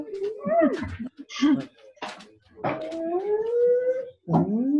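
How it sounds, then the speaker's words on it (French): A dog whimpering and howling nearby, with rising and falling wails and short whines broken by brief pauses, loud and close in an otherwise quiet room. "Là, là, il y a un chien, je pense."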